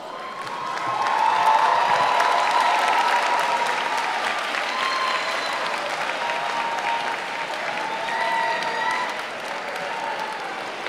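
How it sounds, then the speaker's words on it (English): Sustained rousing applause from a large commencement crowd at a Berkley High School graduation, honoring the families, with a few cheers and whoops rising through the steady clapping. "give them a rousing applause."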